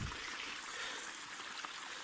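A creek near Stewiacke trickles and flows in a soft, steady wash, faint and continuous for about two seconds with no voices.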